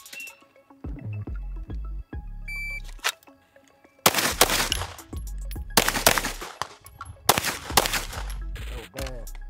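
Staccato P pistol gunshots fire in rapid strings during an accelerator drill on a shooting range. Loud, sharp cracks come in quick bursts, and electronic beeps and short spoken remarks fall between them.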